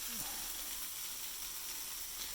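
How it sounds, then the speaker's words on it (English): Chicken curry sizzling in a pot as it is stirred, a steady soft hiss of frying with faint scraping, quiet and continuous throughout. "I'm gonna stir it a little bit."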